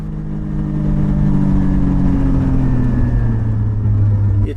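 A Porsche 718 Spyder's engine drones loud and steady on a twisty road, its pitch rising and easing slightly through the bends with no talking over it.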